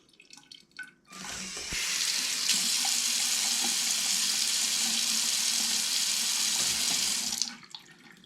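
Steady stream of water from a LEGO-built touchless faucet pouring into a sink, starting abruptly, running loud and even for about six seconds, then cutting off.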